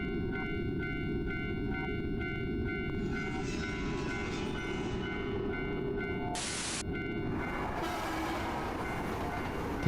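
A video game train passes with a steady heavy rumble, layered with sustained tonal ringing like a crossing bell or horn, and a brief bright hiss burst midway, loud and continuous.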